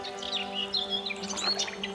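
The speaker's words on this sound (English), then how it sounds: "The birds know it, and they sing all the louder." Several birds sing and chirp at dawn, bright overlapping calls and tweets near and far over a steady low hum, with no talk.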